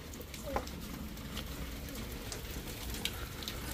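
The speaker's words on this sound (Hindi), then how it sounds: "बाहर अभी भी बारिश हो रही है यार।" Rain falling outside in a village, a moderate continuous hiss of drops on surfaces with a couple of sharper drip ticks and faint bird chirps, no talking.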